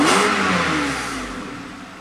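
A Mercedes car engine revs during acceleration, one smooth rising pull with no warning lights and no limp mode. The revving is close and loud at first, then eases off into a steadier whir.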